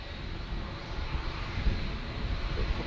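A Turkish Airlines Airbus A330 at Manchester Airport gives off a steady, distant jet roar, a broad low rumble holding at moderate level throughout with no voices.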